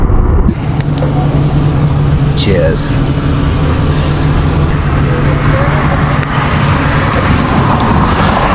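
A car creeps slowly through a road tunnel with wet patches and ongoing works, its engine and road noise forming a loud, steady rumble with a reverberant hum, while a person briefly speaks over it.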